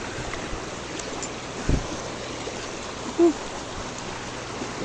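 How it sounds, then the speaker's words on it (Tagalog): A river stream flows in a rural mountain area, giving a steady, even rush of water noise across the clip with one brief dull knock partway through and no voices. "Indot kayong suba"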